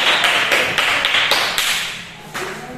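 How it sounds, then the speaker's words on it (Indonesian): A school class applauds a student group after its presentation in a physical fitness lesson, a close, loud burst of rhythmic clapping that fades toward the end. "kasih tepuk tangan dulu dong untuk kelompok A"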